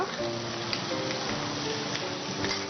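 Flour and soaked rice fry in butter in a pan with a steady, dense sizzle and faint stirring clicks, a close, even crackle running throughout.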